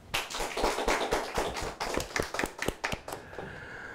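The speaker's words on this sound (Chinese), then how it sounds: "来，大家掌声，" A small group in an office claps for a colleague, a short burst of scattered hand claps that thickens briefly and then thins out into a few final claps, close by.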